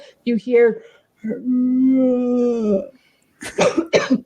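A person imitates a raspy, groaning zombie cough, a drawn-out moan between short coughing bursts, with a few spoken words at the start.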